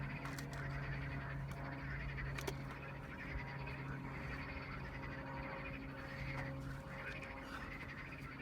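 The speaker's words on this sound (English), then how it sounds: "You can probably hear the frogs." Frogs croak steadily by a lake in Georgia, a faint, continuous chorus with low repeating calls and some higher chirps, heard at a distance with no talking.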